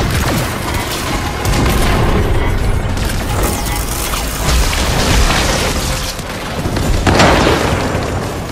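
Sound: mortars firing and exploding in the video game Warframe

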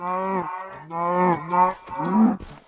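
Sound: cow mooing in the video game Minecraft

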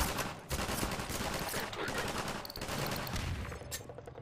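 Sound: gunfire in video game Half-Life 2

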